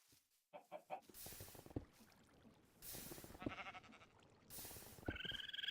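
Minecraft sheep bleating in a game world, several short repeated baa calls with bursts of rustling and clucking-like game noises between them, fairly loud and close, no talking.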